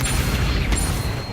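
An Incendio fire spell cast in Hogwarts Legacy gives a dense, steady low rumbling burst that roars for just over a second at constant loudness, with no voices on top.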